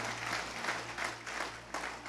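Congregation applauding in a church service, a brief burst of clapping in pulsing waves over a steady low hum, fairly faint and distant.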